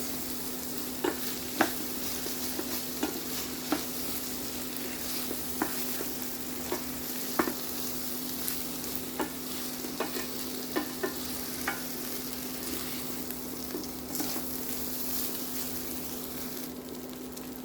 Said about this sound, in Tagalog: Let's fry the rice a little bit.